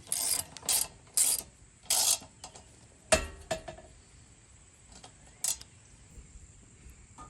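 An Allen tool turns a five millimeter bolt on a BBR Stinger bicycle, giving a series of quick ratcheting clicks in short bursts, followed by a sharp knock and a few scattered faint ticks, close and without voices.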